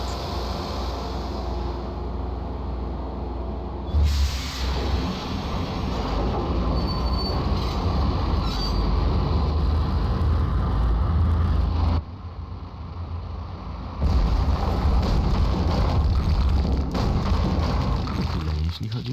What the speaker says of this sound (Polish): Uruchamiamy sobie pociąg.